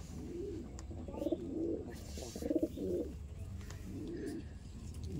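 Pet pigeons coo in a home loft in a few low, rolling bursts of about a second each, fairly close and soft over quiet background noise.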